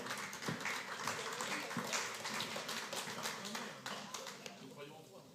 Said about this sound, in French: J'adore les applaudissements avant de dire quelque chose